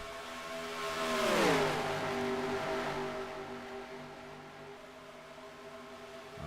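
A NASCAR stock car engine in the NASCAR Racing 2003 simulation game whines past, its pitch sliding down as it goes by, then a steady engine drone carries on in the distance.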